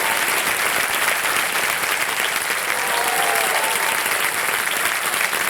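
A studio audience on the KBC India quiz show breaks into loud, continuous applause, a dense wall of clapping that holds steady throughout.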